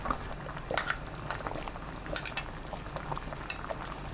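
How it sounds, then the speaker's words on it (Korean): Samgyetang, a Korean chicken soup with chestnut, garlic, ginseng, abalone and ginkgo nuts, boils hard in a pot over high heat. A continuous bubbling churn sounds close by, with a few light clinks of metal, and nobody speaks. "은행 넣고 센 불로 10분 더 끓여주세요"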